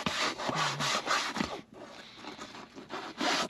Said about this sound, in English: I let it sit for 1 minute and then I scrubbed it.